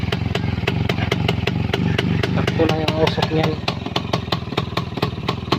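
Two-stroke Kawasaki HD3 motorcycle engine idling close by, a steady rapid popping putter with a faint whine, while someone talks over it.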